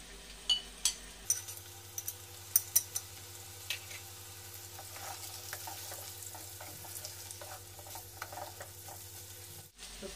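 Cashews and raisins fry in a pan of oil for fried rice, giving a soft, steady sizzle broken by scattered crackles and spoon stirring clicks over a low hum.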